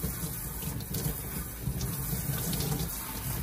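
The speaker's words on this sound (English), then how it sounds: "So now I'm doing the second rinse here." A wig being rinsed under running tap water after shampooing, a steady, full rush of water pouring and splashing without pause, close and even in level, with no talking.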